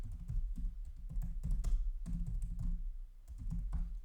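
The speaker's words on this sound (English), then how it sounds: "So here we just type the contents" Close, quick clatter of computer keyboard keys while typing out the contents of LaTeX table cells, coming in uneven bursts with short pauses between them.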